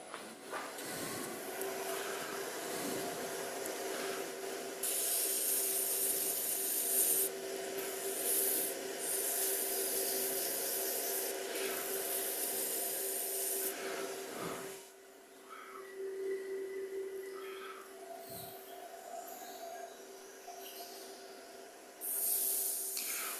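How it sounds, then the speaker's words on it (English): Sandpaper pressed into a turned cove groove on wood spinning on a lathe, giving a continuous scratchy hiss over a steady motor hum that rises and eases in pressure across a long pass, fairly faint and with no talk. "So I've just got to sand that groove now."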